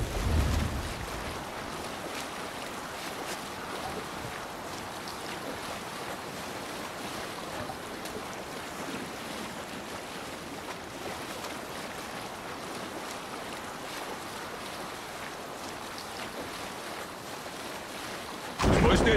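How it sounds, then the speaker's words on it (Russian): Steady wind rushing over open water near a sailing boat, with waves washing against the hull, a continuous broadband roar that holds nearly unchanged for the whole stretch. "ветер!"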